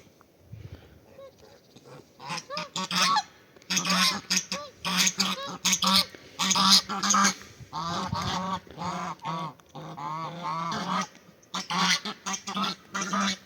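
Domestic geese honk in repeated bursts close by, harsh nasal calls coming in quick clusters with brief pauses between them.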